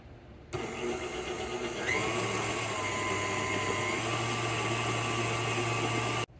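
A stand mixer fitted with a paddle attachment churns flour into a dough, giving a steady, loud motor hum that starts abruptly and runs continuously to a sudden stop.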